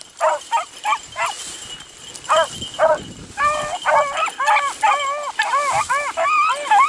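A pack of beagles baying while running a scent trail, repeated rhythmic yelps and bawls from several dogs overlapping and growing busier, fairly close outdoors.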